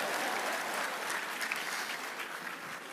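A church congregation claps loudly and steadily for a few seconds as sustained applause fills the space.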